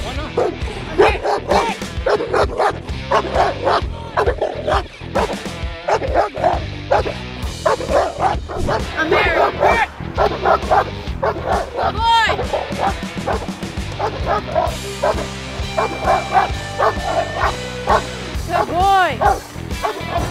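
A cane corso barks and yips repeatedly, mixed with whimpers, under a running voiceover and background music.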